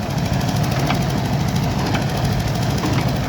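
A Fordson E27N tractor, driven while baling straw with a Massey Harris 701 baler, runs with a steady, loud engine drone. The pulsing chug stays even and continuous throughout, with no talk.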